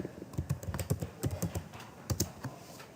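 Rapid bursts of computer keyboard typing while entering BASIC-256 program code, uneven clusters of close keystrokes with short pauses between words.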